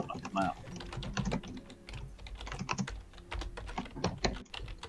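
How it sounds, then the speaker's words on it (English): Loud, rapid clattering keystrokes on a computer keyboard come in quick uneven bursts close to the microphone, with quiet voices talking faintly in the background. "You're typing quite loud, Ross."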